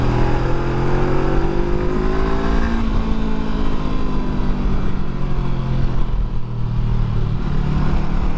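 A 2021 Honda CB500X motorcycle pulls at full power, its engine droning loud and close. The pitch climbs and drops across gear changes, with wind noise mixed in.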